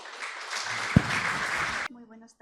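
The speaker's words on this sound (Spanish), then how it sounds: "Despedimos igual con un fuerte aplauso, por favor, a Alfredo y a Teresa." A brief, fairly quiet burst of audience applause for two guests at a Trinidad museum event lasts under two seconds, then breaks off as a voice begins to speak.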